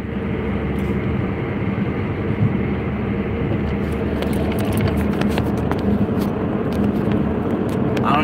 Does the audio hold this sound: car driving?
yes